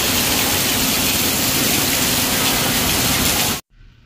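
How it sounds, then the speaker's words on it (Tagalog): Heavy rain and floodwater pour through a street in Quiapo, Manila during Super Typhoon Carina, a loud, constant rushing gush that cuts off abruptly near the end, leaving a faint low rumble. "Ang lakas din ang buhos ng dito."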